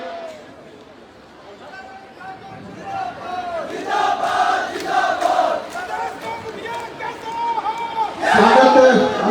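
A crowd at a public event in Palampur, Himachal Pradesh, greets the Chief Minister's arrival with sustained cheering, shouts and clapping that swell louder toward the end. Voices call out throughout the noise.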